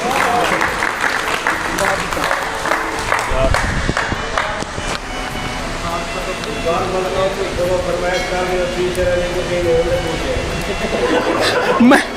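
Audience at a poetry recital applauds for poet Iqbal Bazmi, a sustained wash of clapping mixed with chatter and scattered laughter that swells again near the end, with people talking throughout.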